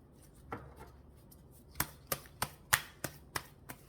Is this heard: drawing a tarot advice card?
yes